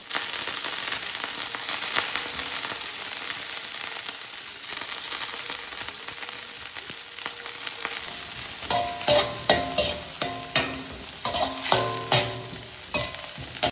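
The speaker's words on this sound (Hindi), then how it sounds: "गाजर को 1-2 मिनट पकाने के बाद हम इसमें डालेंगे बंद गोभी।" Cabbage and carrots stir-frying in a pan: a loud constant sizzle, then from midway a run of rapid spatula scrapes and clatters against the pan, close up and without speech.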